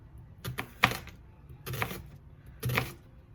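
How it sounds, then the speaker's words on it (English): Three crisp cutting strokes as a knife slices through half a white onion on a board, each a short burst of crunchy chops, close and clear with no talk. "I'm gonna go ahead and cut half an onion, half a white onion. I'm gonna go just do slices"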